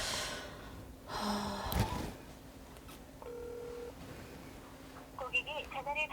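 A phone call goes unanswered: a short electronic ring tone and dialing beeps come through, mixed with breathing and a snort nearby, before a burst of warbling tones near the end.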